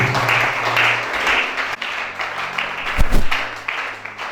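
A church congregation applauding, a dense wash of clapping that swells and dips for several seconds, with a low sustained hum and a brief thump near the end.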